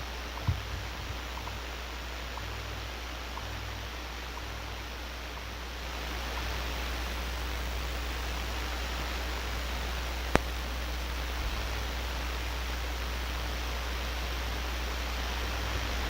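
Weak shortwave signal on a Collins receiver, heard as steady broadband hiss and static with a low hum throughout, one brief click near the end, no voice.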